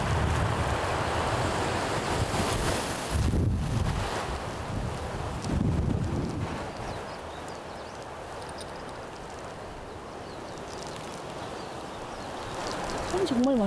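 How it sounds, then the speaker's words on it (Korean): Wind rushes across the microphone on a spring hiking trail on Cheongsando island in Wando, making a continuous roar that swells and fades like ocean surf. It is fairly loud and steady throughout. "파도 소리 같은 바람 소리"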